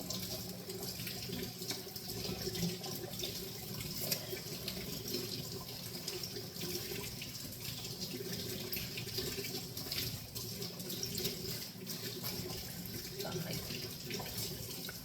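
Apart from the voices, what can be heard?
water running from tap while washing something off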